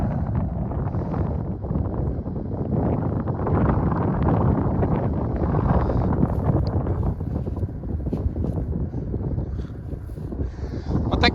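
Steady wind rushes and buffets against the microphone in an open field during pre-sowing cultivation beside a Lovol 1054 tractor, a continuous loud roar with faint higher sounds near the end.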